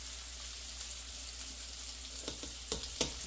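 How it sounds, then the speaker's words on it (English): Half a stick of butter melts in a pan, giving a soft, steady sizzle that stays even throughout. A few sharper utensil taps come near the end, all close and fairly quiet. "I am melting half a stick of butter"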